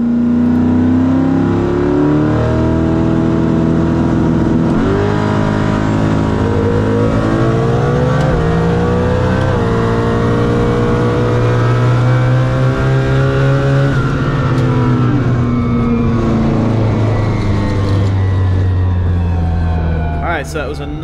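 Turbocharged Mustang accelerating hard down a half-mile airstrip race course, a loud, close engine roar climbing steadily through the gears with rising pitch, sustained for about twenty seconds.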